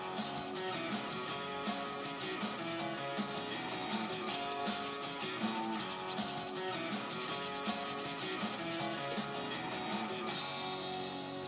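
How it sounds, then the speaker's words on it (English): Steady, continuous rubbing and scraping of sandpaper by hand, a dense rasping texture that carries on without a break throughout. "I got a lot of sanding to do on her"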